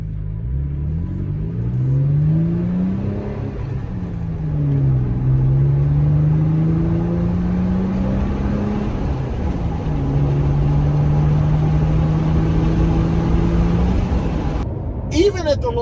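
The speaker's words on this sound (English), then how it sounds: "if you're starting off in first gear and you're running through, heading towards second, and then heading towards third, you really do get more of a sound, an exhaust note" Toyota Tacoma fitted with a TRD exhaust and cold air intake accelerates through the gears of its manual transmission, the engine note rising in pitch, dropping at each shift and climbing again, steady and fairly close, with a voice talking over it.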